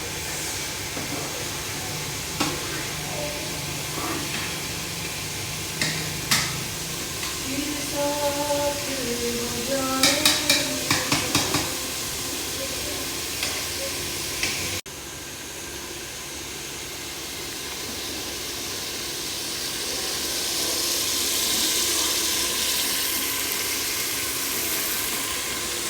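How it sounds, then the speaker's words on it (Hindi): Potatoes fry and spinach boils hard in pots on a home kitchen stove, giving a steady broad hiss with bubbling that swells and eases over a long stretch. Faint clinks and a few tonal squeaks sound over it. "हमारे आलू जो है थोड़ी देर के लिए भुनेंगे, और इधर हमारी पालक देखिए फुल जोश और खरोश से उबल रही है"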